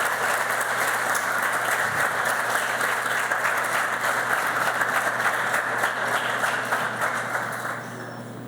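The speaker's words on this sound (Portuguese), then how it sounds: "Aplausos para o nosso grande maestro Eleazar de Carvalho." An audience at a solemn ceremony honouring conductor Eleazar de Carvalho applauds steadily for several seconds, a dense wash of clapping that holds level and then tapers slightly at the end.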